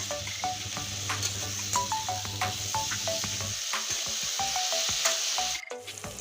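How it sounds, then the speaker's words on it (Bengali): Potatoes and onions fry together in a pan for a rohu fish curry, making a steady close sizzle with repeated scraping strokes of a spatula against the pan, and a low hum underneath. "পেঁয়াজ আলু একসঙ্গে আমি কষিয়ে নেব লাল করে"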